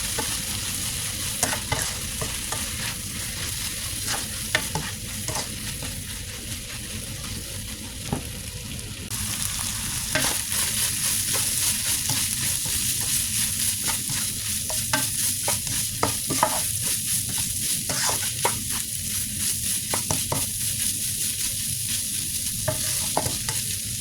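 Pork and young tamarind being stir-fried in a pan, a steady sizzle with repeated scraping and clacking of a spatula, close up and continuous, with no voices.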